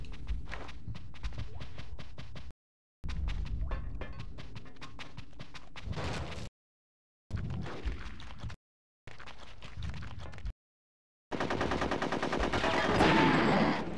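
A new, better gun fires repeatedly in Conker's Bad Fur Day multiplayer, giving fast rapid bursts of close, loud shots broken by brief silent gaps, with a denser, harsher burst at the end.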